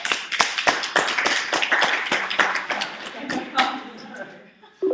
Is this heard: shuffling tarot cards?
no